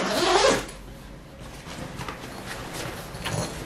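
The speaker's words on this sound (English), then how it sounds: "You open up the bag here. So the zippers themselves, they feel, they're YKK zippers, and they feel quite smooth and heavy duty." Heavy-duty YKK zippers on a Post Carry Co Transfer Case bike travel bag are pulled open in a quick close rasp, then softer scraping and rustling of the fabric case follow.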